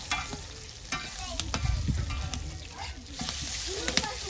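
Chole kulcha cooks in plenty of oil, giving a steady close sizzle and hiss of frying with intermittent clinks and scrapes of stirring throughout.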